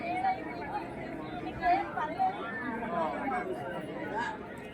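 Crowd chatter at a temple in Kathmandu, Nepal: a steady murmur of many voices, moderately near, with a few louder voices rising out of the babble.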